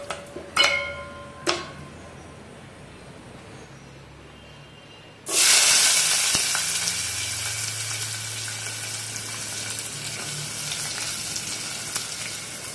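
A finely chopped large onion hits hot oil in a pan for Tamil mushroom gravy (kaalan kuzhambu), setting off a loud, sudden hiss that settles into a steady sizzle, after two earlier light utensil clinks.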